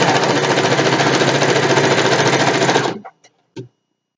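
Sewing machine stitching a satin pillowcase, a loud, steady rapid whir for about three seconds that stops abruptly, followed by a few short clicks and a brief thump.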